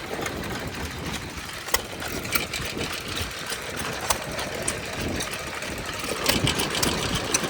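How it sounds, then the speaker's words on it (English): An old Stover stationary engine runs at a vintage power show, a steady mechanical chatter with sharp irregular knocks and clicks over a busy outdoor background. "Got a nice old Stover, runs great."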